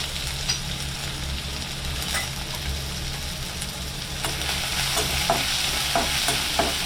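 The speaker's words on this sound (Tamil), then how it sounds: "நான் ஒரே ஒரு வெங்காயமும் ஒரே ஒரு கொத்து கருவேப்பிலையே குட்டி குட்டியாக கட் பண்ணி வச்சுருக்கேன். இதையும் நல்லா அதில் போட்டு வதக்கிக்கலாம்." Finely chopped onion and curry leaves sautéing in hot oil for a vegetarian fish-style curry, a continuous sizzle with scattered stirring scrapes and taps, close and steady, growing slightly livelier toward the end.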